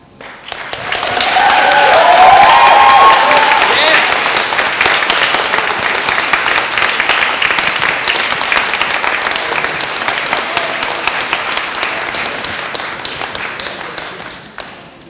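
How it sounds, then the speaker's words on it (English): Student union meeting audience breaks into sustained clapping that swells in the first seconds, then holds as broad, dense applause from a large crowd indoors before tapering near the end. "Thought everyone just like clapped in between or something."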